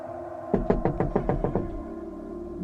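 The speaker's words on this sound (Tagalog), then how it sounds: "May kumakatok sa pinto." Rapid series of about eight firm knocks on a door, close and evenly paced, followed by a low droning background that continues after the rapping stops.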